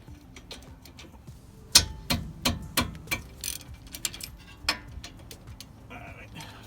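A ratchet with a socket turns the brake caliper bracket bolt on a Honda Pilot during a front brake job, giving a run of sharp, close metallic clicks in uneven bursts with a few quieter ticks between them.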